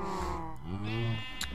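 Minecraft sheep bleating in a farm pen, a close, wavering bleat followed by a second shorter one, with no talking.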